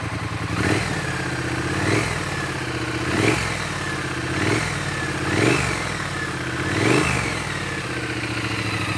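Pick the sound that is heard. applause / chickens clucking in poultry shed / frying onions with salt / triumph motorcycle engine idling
triumph motorcycle engine idling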